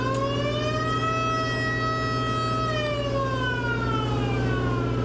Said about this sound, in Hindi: इस सिस्टम से अभ्यास शुरू करते ही सायरन बज उठा